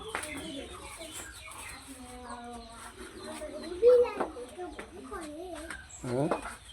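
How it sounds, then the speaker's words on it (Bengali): Small chicks peep and cluck close by in an irregular run of short high calls, mixed with people talking and soft background noise. "এই যে মুরগির ছানা"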